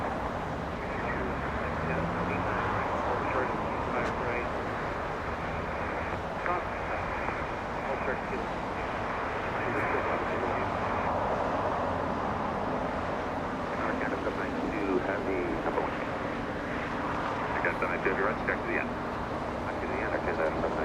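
A KLM airliner taxis at Los Angeles International Airport, its engines a steady, moderately distant roar mixed with broadband airport noise, with talk heard faintly under it.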